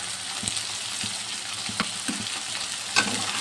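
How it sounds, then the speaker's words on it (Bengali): Potatoes frying in a pan with ginger-garlic paste, a continuous close sizzle broken by several soft scrapes and knocks of stirring, the last one louder. "আলুটা ভালো করে ভেজে নেব।"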